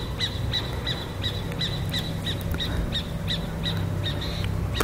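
A bird calls over and over in a quick, steady rhythm, its sharp notes cutting through a constant low rumbling background.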